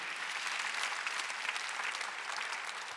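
Church congregation clapping in a steady, dense burst of applause during a Sunday worship service, filling the room evenly for a few seconds with no voices on top.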